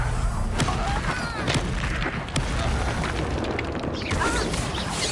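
Confringo spell explosions in a Hogwarts Legacy castle fight, repeated booming cracks over a constant loud roar of combat effects, with brief whooshing magic sounds mixed in.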